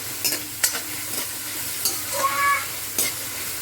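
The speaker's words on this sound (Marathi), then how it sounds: "आता आपले हे व्हेजिटेबल सर्व छान प्रकारे फ्राय झालेले" Capsicum and carrot stir-fry in a pan for noodles with a continuous sizzle broken by several spatula scrapes and knocks, heard close up with no voices over it.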